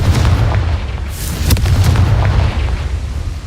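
Fire-blast spell explosions from the Hogwarts Legacy video game sound as a sustained, loud booming rumble with a sharp burst near the middle, heavy low-end roar throughout and no voices.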